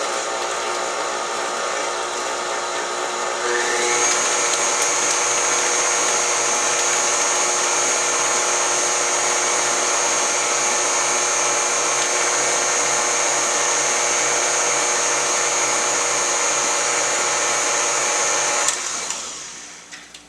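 An electric mixer beats cookie dough in a bowl, a steady loud whirring motor drone that starts a few seconds in and runs continuously for most of the clip before cutting off near the end.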